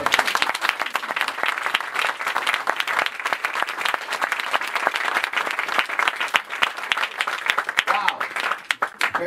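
A church congregation in Côte d'Ivoire breaks into sustained, dense applause and clapping that fills the whole stretch, loud and steady with crowd voices mixed through it.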